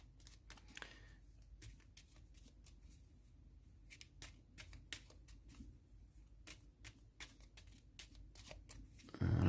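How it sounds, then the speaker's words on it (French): A deck of playing cards is shuffled over and over during a solo board game, with a steady flutter of quick riffles and soft slaps near the mic and no talking. "Je vais remélanger les cartes."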